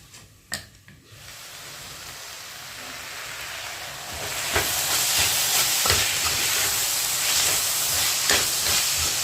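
Cabbage and peas steaming in a covered thick-bottomed pan over a very low gas flame, a steady soft hiss that swells louder partway through, with a few faint clicks and bumps and no talking.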